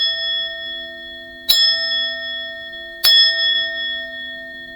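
A small bell is struck twice about a second and a half apart to cleanse the space, each strike a bright ringing tone that lingers and blends into a steady sustained shimmer.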